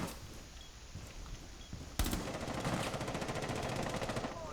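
Rapid automatic gunfire in a first-person shooter video game, bursting in loudly after two quiet seconds and continuing as a dense, sustained stream of shots.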